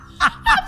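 A person vocally imitates water being poured into a glass during a sound-making party game, producing two short, close gurgling bursts with a falling pitch.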